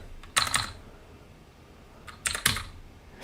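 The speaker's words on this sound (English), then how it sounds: "If my keyboard will type." Computer keyboard typing in two quick bursts of clicking keys separated by a pause, close and crisp against a quiet room with no talk.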